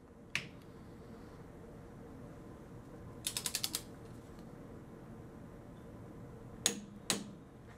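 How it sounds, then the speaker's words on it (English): A torque wrench tightening a lubricated wheel stud to 44 foot-pounds gives a few sharp single clicks, then a quick run of five ratcheting clicks, and two more clicks near the end, all close and crisp in a quiet room. "I'm gonna grab my torque wrench and we're gonna apply the same 44 foot-pounds to a lubricated fastener"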